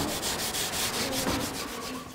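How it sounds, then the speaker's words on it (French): Steel wool scrubbing wax off wood paneling, a steady rasping rub repeated in quick back-and-forth strokes, close and continuous with no talk. "il faut retirer la cire avec une paille de fer sur les 80 mètres carrés de boiserie"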